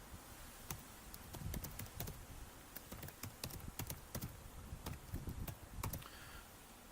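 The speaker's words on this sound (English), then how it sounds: "you can type in a description." Fingers type on a computer keyboard in irregular bursts of sharp clicks and taps, close and fairly quiet, with short pauses between runs of keystrokes and no voices.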